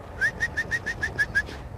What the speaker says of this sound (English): he just whistles and they come